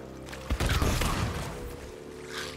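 Gunfire in Sea of Thieves, a sudden volley of sharp shots and booming cracks that trails off into a rough rumble, loud and close.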